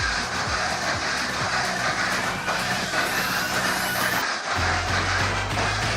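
A Mini 4WD with an extra-long I-chassis runs on a JCJC track, its small motor whining steadily and loud, with plastic rattles and clicks along the lane before a brief dip and a lower hum.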